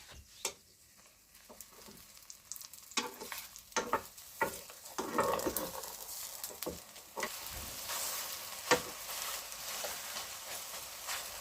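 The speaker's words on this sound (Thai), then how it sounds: "ทอด แบบ เหลือง ๆกรอบ ๆ เลยนะคะ" An omelette with wild garlic leaves fries in oil in a pan, a soft continuous sizzle broken by sharp clicks and scraping as it is stirred, close and fairly quiet.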